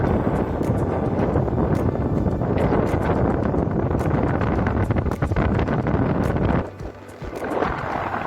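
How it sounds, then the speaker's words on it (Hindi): Strong wind blowing outside a house at night, a steady loud broadband roar with gusty rustling that drops briefly near the end, no talk over it. "बहुत तेज़ हवा आ रही है।"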